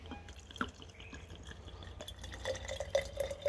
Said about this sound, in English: and then put some white vinegar in it